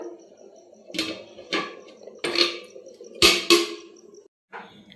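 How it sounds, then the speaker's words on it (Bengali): A thick meat curry simmering in a pot, giving off a handful of irregular, soft bubbling blurps and pops close by, with quiet gaps between them. "তরকারির মাংসটা ফুটছে এখন"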